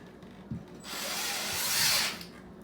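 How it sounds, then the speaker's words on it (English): A RotoZip rotary cutter whines and grinds through the edge of a drywall patch for about a second and a half, then stops abruptly; a light knock precedes it. "then I'll rotozip out this edge to get a nice clean fit"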